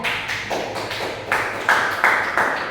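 Classroom applause for a student named Widya, a steady patter of many hands clapping together that swells slightly toward the end, moderately loud and close, with no talking over it.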